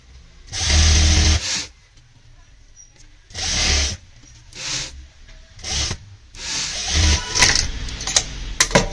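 A sewing machine with a single foot stitches a zip into the back of a Punjabi suit in several short bursts, the first longest, with brief pauses and fabric rustling between them.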